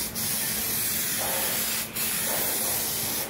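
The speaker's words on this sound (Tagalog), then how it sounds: "Tignan nyo, dahan-dahan lang yung pag-spray ko dito." Spray gun laying a wet clear coat on a Honda Click 125 scooter body cover, a close, continuous loud hiss broken by two brief pauses between passes, with no speech.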